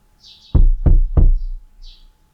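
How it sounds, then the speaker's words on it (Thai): Three firm, evenly spaced knocks on a wooden door, close and resonant, with faint soft background sounds around them. "พ้นเสียงเคาะ ประตูห้องนอนก็ถูกเปิดเข้ามา"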